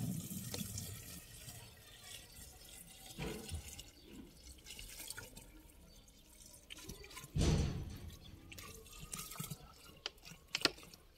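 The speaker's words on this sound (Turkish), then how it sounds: "Kalan suyu da şişenin içine boşaltalım." Water poured into a plastic bottle while tomatoes are planted, giving soft, faint splashes and trickles with a louder gush around the middle and a few drips.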